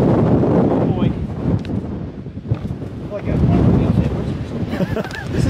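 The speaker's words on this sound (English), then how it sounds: "It's windy." Wind buffets the microphone in steady low rumbling gusts on an exposed high point in Guadalupe Mountains National Park, Texas, rising and falling throughout, with no clear talking.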